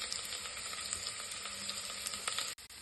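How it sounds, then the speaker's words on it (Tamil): Radish sautés in a single pot for a one-pot sambar rice, giving a soft, continuous sizzle with light crackles, quiet and steady, cut by a couple of brief handling bumps near the end. "இப்போ முள்ளங்கி ஒரு 1 மினிட் வதங்கட்டும்."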